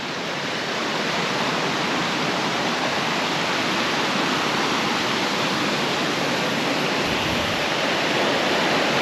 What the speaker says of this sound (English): Deep into the gorge now with all its cascades.